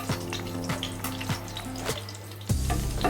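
Cinnamon sticks and small cardamom pods frying in hot oil for an egg korma, a close sizzle with several sharp scraping stirs and a louder burst toward the end.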